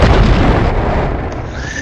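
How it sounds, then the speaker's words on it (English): Explosions in a tabletop role-playing game narration: a loud, sustained booming rumble fills the whole moment, dense and close with no talk over it. "And then 4 explosions happen."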